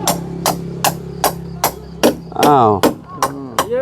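Hammer blows on house posts while raising the frame of a new house, about nine sharp strikes in a steady rhythm, loud and close, with a man's brief exclamation and talk in between.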